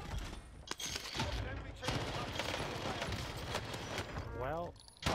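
Rapid automatic fire from the GRUB rifle in Call of Duty Warzone rattles loud and continuous for several seconds, dense bursts layered over game effects, with a voice talking briefly near the end.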